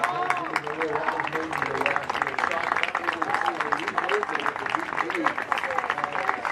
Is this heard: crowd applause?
yes